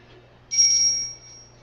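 A single clear, high-pitched bell strike rings out and fades over about half a second against a quiet background hum.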